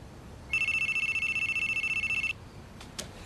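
Telephone ringing with one fairly quiet electronic ring burst of about two seconds, a steady pulsing tone, followed by faint room noise and a couple of small clicks.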